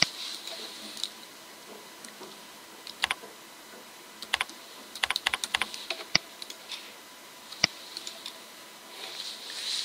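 Sparse keystrokes on a computer keyboard during data entry, quiet and close, with irregular single clicks and short clustered bursts of typing over a faint background hiss.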